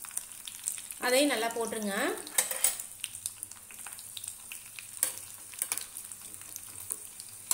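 Cashews and raisins fry in ghee in a pot with cinnamon, cloves and cardamom for sweet pongal, a close crackling sizzle with occasional spoon taps and stirring scrapes, while someone speaks briefly near the start.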